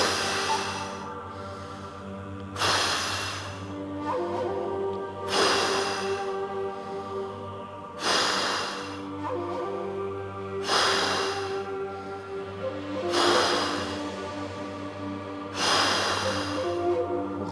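Forceful nasal exhalations during a Taoist yoga breathing exercise, about six sharp breaths repeated at a steady rhythm every two to three seconds, close and clear over a sustained low background tone.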